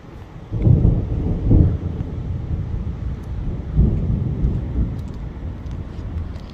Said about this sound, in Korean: 천둥 번개 치고